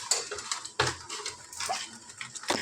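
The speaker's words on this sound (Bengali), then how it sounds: "ভালো করে এবার নেড়ে নিতে হবে যতক্ষণ না এটা আট হচ্ছে" Pointed gourd peel paste with sesame stirred in a pan, a close scraping and clattering of a utensil against metal in irregular bursts with no voices.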